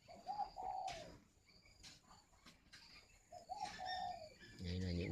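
Spotted doves coo in soft repeated phrases close by at a poultry breeding farm with green-legged chickens, one faint low call near the end, and a voice talks over them.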